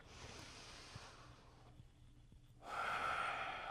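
A yoga practitioner takes a slow inhale during asana practice, a soft airy breath heard close and quiet, followed by a louder, brighter rush of air near the end.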